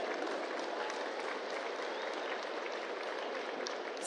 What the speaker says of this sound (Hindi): आइए जोरदार तालियों के साथ स्वागत करते हैं